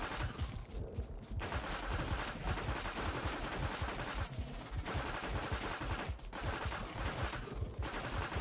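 Rapid, dense gunfire in a randomizer-mod video game crackles in sustained bursts with brief gaps, loud and close throughout.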